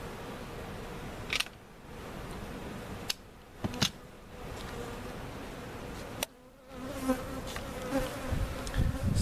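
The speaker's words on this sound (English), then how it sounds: "So you can see bees flying around a lot, getting oriented to this new location" Honey bees buzz busily around a relocated hive, a dense close drone of many insects with sharp clicks and brief rustles scattered through it, and no talking.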